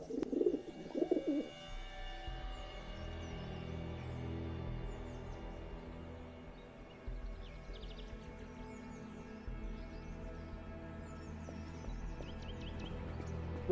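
Pigeon cooing as a sound effect in Garry's Mod, soft repeated low coos over a steady background hum, fairly quiet and continuous.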